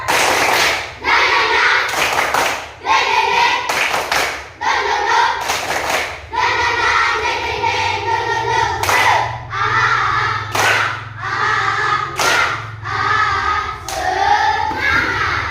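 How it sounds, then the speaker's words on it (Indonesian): Children perform tepuk semangat, a rhythmic spirit clap in a classroom, with sharp, loud, evenly patterned hand claps and thumps repeating for about fifteen seconds, mostly without talk. "Tepuk semangat!"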